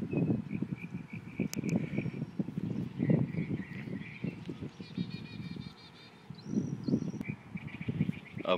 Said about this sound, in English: you can hear some awesome birds in the background